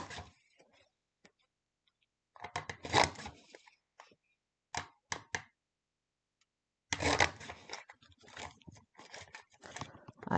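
A paper punch stamping palm tree shapes gives short crunching clunks in separate clusters, with quiet gaps between the groups.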